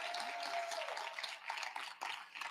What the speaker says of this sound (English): Let's give his mother another round of applause.